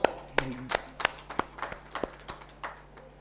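Audience clapping at an awards event, sparse and uneven with individual sharp claps spaced out rather than a full ovation, fairly faint in a room.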